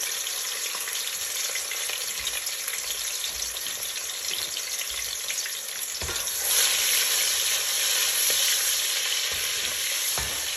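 Onions and bell pepper frying in hot oil in a pan, a steady dense sizzle throughout that grows slightly louder and brighter about two thirds of the way in, with no voices.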